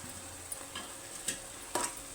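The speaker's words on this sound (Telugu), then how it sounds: "ఇప్పుడు ఇందులో బెండకాయ ముక్కలు కూడా వేసేసుకుంటున్నానండి." Okra pieces tossed into a pan of tomato simmering in oil, with a soft steady sizzle broken by a few faint stirring clinks and scrapes, quiet and close with no voices.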